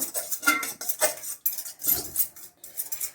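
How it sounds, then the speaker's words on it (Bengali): Three eggs are whisked in a bowl with a utensil, making rapid rhythmic clinks and scrapes against the bowl, close and fairly loud with no talking. "ডিমটাকে খুব সুন্দরভাবে ফেটিয়ে নেব।"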